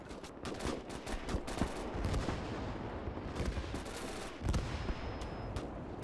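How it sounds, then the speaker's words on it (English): Sustained heavy barrage from Panzer IV tanks and artillery guns in Gates of Hell: dense overlapping gunshots and booming blasts, loud and continuous, with near and distant reports mixing. "The Panzer IVs are firing in a nice barrage."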